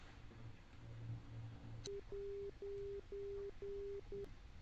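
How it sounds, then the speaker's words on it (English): An electronic alarm in Kerbal Space Program marks 10 kilometers of altitude, a repeating steady beep in evenly spaced pulses, about five in a row, clear and moderately loud over a low background hum. "that's the alarm for the 10-kilometer marker"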